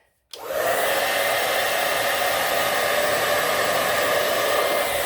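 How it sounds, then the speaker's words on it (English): A blow dryer clicks on and blasts hot air over decoupage fabric to smooth out wrinkles, a steady, loud, close-up whoosh that holds constant after a sudden start. "we're going to use the blow dryer, and that takes the wrinkles away"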